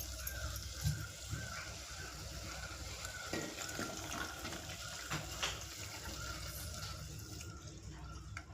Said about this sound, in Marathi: लागेल तसं पाणी घालून भात शिजवूया, कारण हा बासमती तांदूळ आहे.